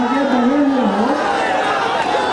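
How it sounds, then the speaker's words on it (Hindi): A noisy crowd roars at an election rally in Nawada, a dense, unbroken wall of chatter and shouting with a raised voice straining to be heard over it. "भीड़ के शोर में उनकी आवाज गुम होती चली गई"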